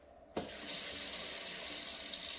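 Water sprays from a handheld sprayer onto hair being wetted, starting abruptly with a splash and then running as a steady, hissing rush.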